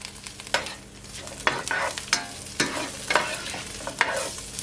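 Scallion whites going into a hot beef and onion stir fry, a close sizzle punctuated by repeated spatula scrapes and tosses in a loose rhythm.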